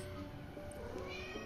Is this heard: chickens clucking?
no